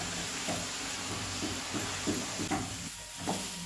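Peanuts and sprouted moth beans dry-roasting in a pan on a gas stove, giving a steady hiss with faint scraping stirs and light crackles throughout.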